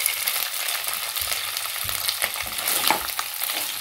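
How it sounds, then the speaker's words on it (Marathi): Boiled potato pieces frying in hot oil in a pan, giving a dense, even crackling sizzle close up, broken by soft knocks of stirring, with no speech. "तेल तापल्यानंतर यामध्ये उकडलेले बटाटे आपण टाकून घेऊया"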